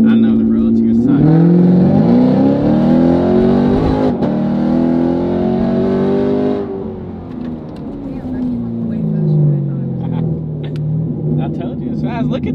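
A car accelerates hard on a street with a loud, close engine note that climbs steadily, drops sharply at a gear shift, then settles into a lower hum. Voices talk inside the car.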